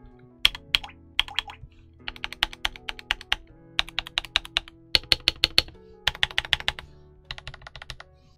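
Keys clack in quick bursts of typing on a Kemove K87 tenkeyless mechanical keyboard with a steel plate, crisp, stiff and close, with short pauses between runs of strokes.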